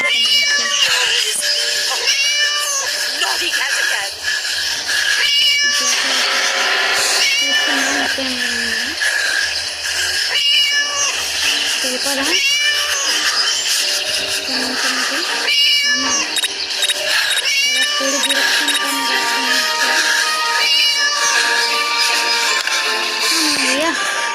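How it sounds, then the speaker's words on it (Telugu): Cat meowing and caterwauling loudly and persistently, with many drawn-out, rising and falling cries repeating close to the microphone throughout, over a constant background. "పిల్లినైతే కాపాడేసాం"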